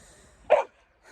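A dog gives a single short, sharp bark, fairly close, then goes quiet.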